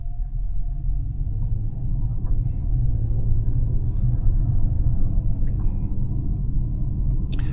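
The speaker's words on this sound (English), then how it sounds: "And push the gas" A car engine accelerates as the driver presses the gas during a driving lesson, a loud, steady low rumble that builds slightly, with faint clicks and no talking.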